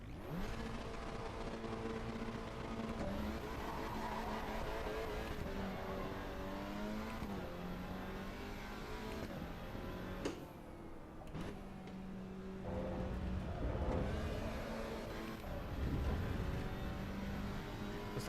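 Race car engine of an Alpina in the Assetto Corsa EVO racing game, droning steadily with rising and falling revs and gear changes, loud and continuous throughout with no talk.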